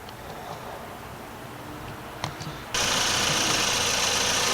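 A 2013 Chevy Equinox with the 2.4 Ecotec engine runs with a steady close ticking hum, a couple of faint clicks, then a sudden louder, brighter rush partway through.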